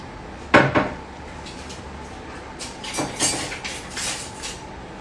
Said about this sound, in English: we're going to give this a little mix now